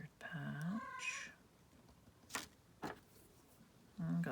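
A cat meows twice, a short rising call near the start and another at the end, close and clear, with a few soft taps and rustles between in a quiet room.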